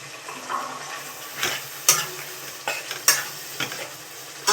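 Paneer being stirred into spiced masala frying in a pan gives a steady soft sizzle. A spoon scrapes and clinks against the pan in several sharp strokes, close by.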